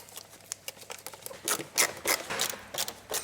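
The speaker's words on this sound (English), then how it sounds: "See that Phillips screwdriver here? Well, there's 6 Phillips screws to undo." Phillips screws are undone with a screwdriver on the air box lid of a Ford Mondeo Mk4 2.0 Duratorq, giving a close series of short scratchy clicks and ratcheting scrapes in uneven bursts, with no talk.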